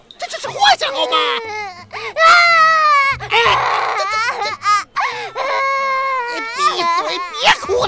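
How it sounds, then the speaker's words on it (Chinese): A child wails loudly in an animated Chinese martial-arts fantasy series, with long, rising and falling sobbing cries that continue steadily across the whole stretch. "哇，你把他弄哭了"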